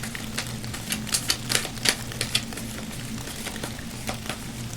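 Tarot cards are drawn and shuffled from a deck in a series of close, light papery flicks and taps, clustered near the middle, over a steady low hum.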